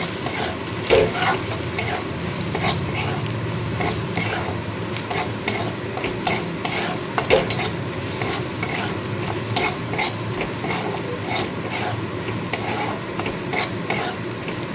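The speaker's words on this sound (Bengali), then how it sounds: "এবার মশলাটাকে খুব ভালো করে মিশিয়ে নিতে হবে" A spice mix with amchur (dry mango) powder and black pepper being stirred in a pan for a stuffed capsicum chop filling, with brisk, repeated scraping and clinks of a spatula over a steady sizzle.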